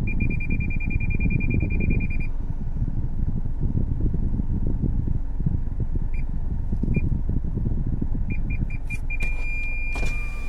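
A car alarm sounds as a steady high electronic tone for about two seconds, then returns as short repeated beeps and a final sustained tone, over a constant low engine-like rumble inside a vehicle.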